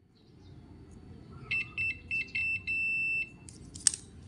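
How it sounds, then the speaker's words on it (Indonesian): Small buzzer on a simple joule thief circuit built from a phone charger, sounding in several short high-pitched beeps of varying length as the continuity connection is made, followed by a brief click. "Buzzer berbunyi,"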